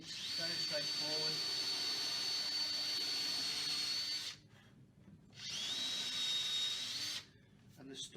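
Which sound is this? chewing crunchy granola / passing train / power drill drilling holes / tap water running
power drill drilling holes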